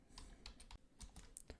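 Fingers tap out a command on a computer keyboard in a Linux terminal, a quick, uneven run of crisp, close keystrokes with short gaps, no voices.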